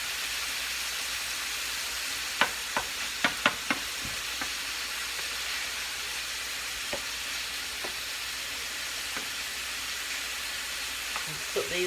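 Shrimp for tacos simmer in a pan with a steady, soft sizzle and hiss that runs throughout, broken by a few faint clicks and taps.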